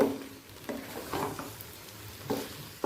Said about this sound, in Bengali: এবার ভালো করে চিকেনটাকে পেঁয়াজের সাথে মিশিয়ে নেব